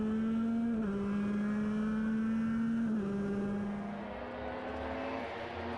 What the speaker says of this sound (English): He hits the brakes. Down a few gears. Then back on the power again.